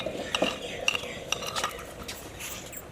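A spoon scraping and clinking against a pot while ginger-garlic paste is stirred into beef for a salted beef shorba, with several light metallic taps over soft stirring.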